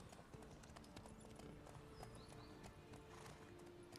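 Horse hooves clip-clop steadily and close in The Witcher 3, with an occasional whinny over a continuous game soundscape.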